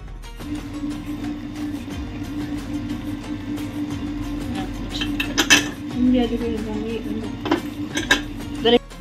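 Mutton pieces being washed in a metal vessel, with busy clattering and scraping of pot and utensils, occasional sharper clinks and splashy bursts, recorded close in a home kitchen.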